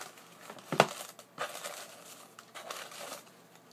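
Soft crinkling and rustling of paper as a Glossybox beauty subscription box is opened, with a sharper crackle near the start and scattered handling noises, close and quiet.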